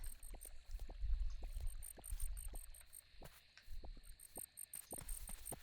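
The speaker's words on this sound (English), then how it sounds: "I hear a cricket." A cricket in the game Dinkum chirps in quick high repeated bursts over a low water-like murmur and soft scattered clicks, moderately quiet and steady.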